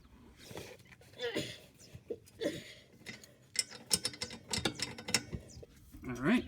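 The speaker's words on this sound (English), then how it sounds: "I got my breaker bar and a 21 millimeter on it. I'm going to go ahead and give it a go." A breaker bar with a 21 mm socket straining against a control arm bolt on a Chevy Cruze or Sonic during a suspension job, giving irregular mechanical clicks, creaks and metallic knocks in bursts, with a short voice near the end.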